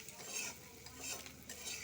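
A spoon scrapes and stirs fried potato and paneer in a hot pan, giving soft rhythmic strokes over a faint, steady sizzle with no talking.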